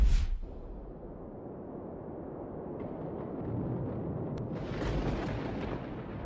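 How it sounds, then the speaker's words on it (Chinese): Thunder crashes during a heavy rainstorm over an old Shanxi-style village. A sudden loud crack opens, then a deep rolling rumble and steady rain hiss follow, with a faint later burst and no voices. "风雨交加中，一声巨大的轰鸣突然响彻了整个嘴子上村庄。"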